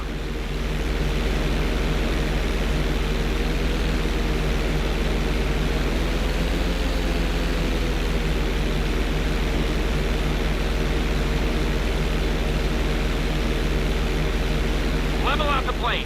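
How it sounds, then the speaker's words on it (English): A plane flies in GTA 5 flight school during knife-edge practice, its steady engine drone holding constant and fairly loud throughout. "I want you to try to hold a knife edge with your plane."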